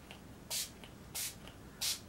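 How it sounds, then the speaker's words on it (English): A spray paint can releases white paint in three short hissing bursts, evenly spaced and fairly close, with quiet gaps between them. "These are all Delusion sprays, by the way"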